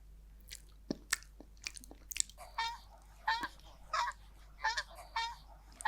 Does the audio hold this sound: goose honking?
yes